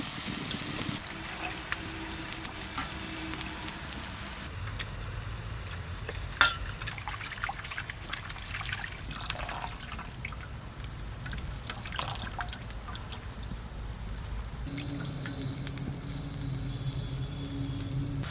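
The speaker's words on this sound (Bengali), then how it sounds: "দেখেন জলে জাল হচ্ছে কীরকম" Water simmers in a pot for a Bengali rohu fish curry, a steady close bubbling and gentle sizzling patter that carries on without a break.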